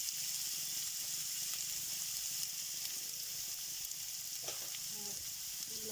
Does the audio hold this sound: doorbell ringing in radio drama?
no